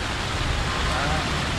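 Rain falling steadily at a snakehead fishing pond, a dense, even hiss that holds at the same loudness throughout with no distinct drops standing out.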